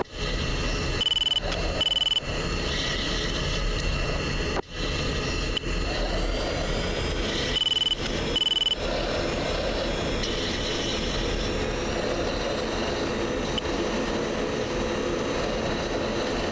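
An F-16 jet engine idles while taxiing in a flight simulator game, making a loud continuous roar and whine. Brief radio-like bursts cut in twice and a short dropout breaks the sound once.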